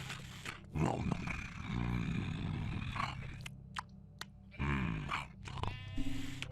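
Sheep bleat in the video game Origins of Olympus as a cyclops devours them, several wavering cries rising over a low ambient game backdrop, with louder bursts near the start and again later.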